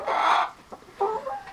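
Pet chickens cluck in short bursts, a louder run of hen calls followed by softer clucks, close by with no talking.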